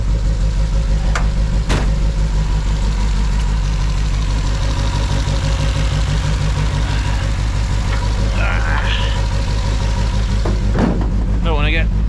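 A Triumph Spitfire 1500 engine idles loudly and steadily up close while warming up, a low rhythmic rumble throughout, with a few clicks and brief voice-like sounds over it.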